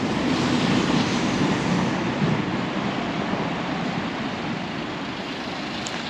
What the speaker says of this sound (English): You hear the train going above me there?